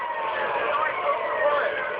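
Police sirens wail in GTA Vice City, a continuous wavering emergency tone holding steady at a moderately loud level throughout, with no pause.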